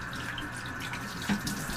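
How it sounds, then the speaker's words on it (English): Hot water rushes steadily through a hose on a Python aquarium water-change system during cleaning; a continuous, close hiss of running water with a brief splash near the end and no voices. "Now I'm just going to run hot water through the hose"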